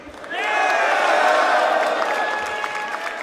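A large crowd at the BLAST R6 Major Atlanta 2023 esports event, a FaZe versus LOS Rainbow Six Siege match, roars with loud sustained cheering and whoops that swell and hold for several seconds.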